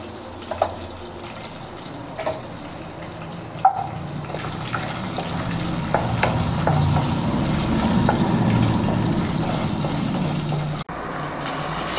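Spices with asafoetida sizzle in hot oil while tempering for a tomato and drumstick curry, a steady close crackle and hiss that rises slightly over time, with no talking.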